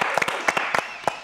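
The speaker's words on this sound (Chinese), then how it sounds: "掌声鼓励鼓励。" A small audience claps in a short, uneven burst, with several distinct, close handclaps rather than a full roar of applause.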